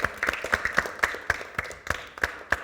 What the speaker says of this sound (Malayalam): ഇവരൊക്കെ നല്ലൊരു ക്ലാപ്പ് കൊടുത്ത ഇവരോട് വന്നേന്